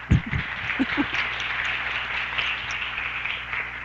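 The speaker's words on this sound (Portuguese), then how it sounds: "un aplauso para Paulina" Audience applause at a culture and training seminar panel, a few louder claps up front settling into a moderate, even patter that carries on steadily.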